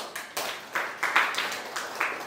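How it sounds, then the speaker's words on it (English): A small group clapping hands during a talk on bodily heat, a loose, uneven run of distinct claps rather than a full ovation, moderately close and fading in and out, with no speech over it. "Then clap."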